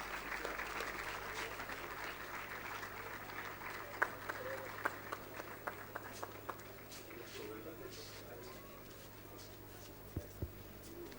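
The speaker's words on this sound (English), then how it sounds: "Please give a huge round of applause for the Nilgiri House." Crowd applause at a school Founder's Day prize ceremony as the overall shield goes to the Nilgiri House, a sustained wash of clapping with a few sharper claps and thumps standing out.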